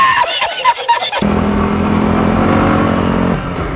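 A motorcycle engine revs on an off-road trail on a road trip to Olarte Cave. It opens with a few sharp, uneven blips, then settles into a loud, steady, close drone that eases off near the end.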